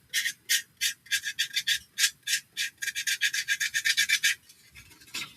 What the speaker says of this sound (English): I can use my sanding tool